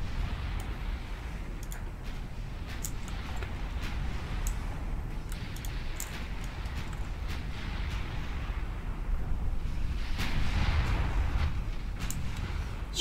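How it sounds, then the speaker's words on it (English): A 9-inch naval gun firing in an Ultimate Admiral Dreadnoughts sea battle, with scattered sharp reports and a heavier boom swelling near the end over a constant low rumble of wind and sea. "Scoring a hit with a 9-inch gun."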